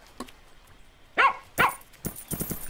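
A fox in the farming game Plantera gives a few short, sharp barks and yips in separate bursts. The barks are spaced across a quiet background.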